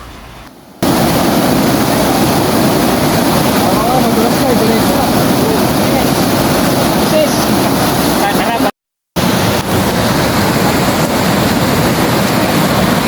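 A strong river current rushes loud and steady, a dense roar mixed with wind buffeting the microphone, broken by one short dropout.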